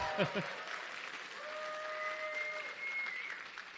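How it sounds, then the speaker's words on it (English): An audience at a weekend conference applauds Emery Smith: a moderate, steady patter of clapping with a brief voice at the start and a faint tonal hum running beneath. "Give him a big round of applause."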